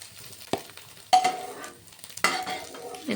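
A metal ladle clinks and scrapes in a pan, lifting fried egg bhujia cooked in mustard oil, with a few sharp scoops and a soft sizzle between them.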